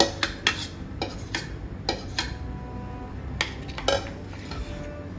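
A metal spoon stirs soaked semolina into boiling milk in a pot for halwa, giving a series of sharp clinks and scrapes against the pan at irregular intervals, close and clear.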